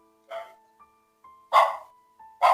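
A dog barks at a house when a nightie seller calls at the door: three separate sharp barks, close and loud, with quiet gaps and a thin steady tone lingering between them.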